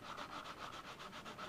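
Quick, rhythmic strokes of sandpaper rubbing against thin balsa wood on a glider wing, steady and close, with no talking.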